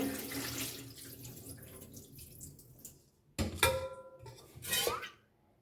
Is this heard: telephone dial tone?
no